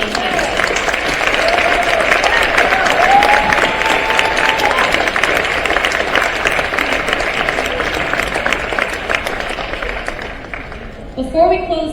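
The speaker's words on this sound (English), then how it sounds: "have you all clap for the youth that have been advocating consistently" A crowd at an evening Champion for Children benefit party applauds the youth advocates with dense, sustained clapping that stays loud and full for most of its length before thinning out near the end.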